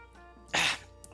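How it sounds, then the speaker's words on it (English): A single burst of coughing after choking on saliva, loud and close, lasting about a quarter second, with quieter breathy sounds before and after. "I choked on my own spit!"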